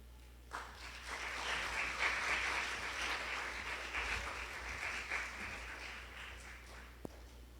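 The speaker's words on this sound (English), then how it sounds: "Let's give her another round of applause." Applause from a live audience at a spoken-word competition, following a woman's performance: steady, dense clapping that swells near the start, holds for several seconds, then ends with one sharp knock.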